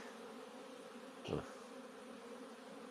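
Honey bees fly out of their hive on a mild winter day for a cleansing flight, giving a steady, soft buzz. One bee passes close to the microphone and grows briefly louder before fading.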